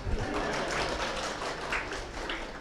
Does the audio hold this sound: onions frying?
no